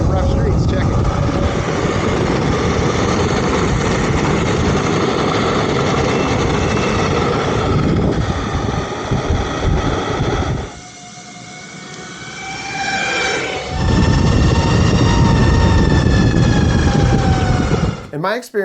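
A Verreal ACE belt-drive electric short skateboard rolling over a rough street, loud continuous wheel rumble and whining motor hum that dips briefly midway, then surges again, with traffic and wind noise around.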